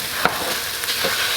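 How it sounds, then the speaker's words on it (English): Loud, continuous sizzling of frozen vegetables in a hot, dry skillet, with a few sharp crackles popping through the hiss. "Do you love the sizzle? I love me a sizzle."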